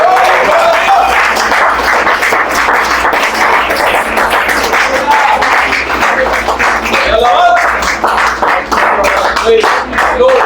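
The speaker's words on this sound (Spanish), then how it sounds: "¿Cuánto le pueden dar esa ofrenda de palmas a Cristo?" A church congregation claps in praise offered to Christ during a Spanish-language evening service, sustained loud applause with scattered shouts and voices rising over it.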